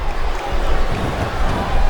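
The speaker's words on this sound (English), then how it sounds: "Sounds like this crowd's got something on their minds" Arena crowd noise in the WWE SmackDown vs Raw 2007 video game during a Snitsky vs Torrie Wilson match, a loud steady roar of a large audience with no clear individual voices.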